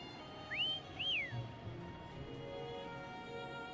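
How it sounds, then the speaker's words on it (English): Two short rising-and-falling whistled notes ring out clearly over a quiet, low background hum, then fade away. "Try whistling."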